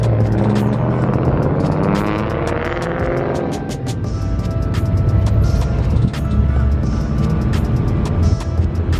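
A car rolls over rough ground at a crowded car meet, with a loud engine, a broad rumble and a run of sharp knocks and clunks as it bumps over curbs and rocks.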